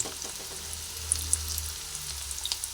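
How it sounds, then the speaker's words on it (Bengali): Onion frying in oil, a soft, even sizzle with small scattered crackles at low volume and no speech. "পেঁয়াজটা দিয়ে পেঁয়াজটা ভেজে নিচ্ছি"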